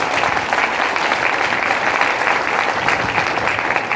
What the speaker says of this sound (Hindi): आए हुए सभी नए लोग, जितने भी पहली बार जो हमारे मेहमान आए ना, उनके लिए एक बार जोरदार ताली बनती है सर, जोरदार।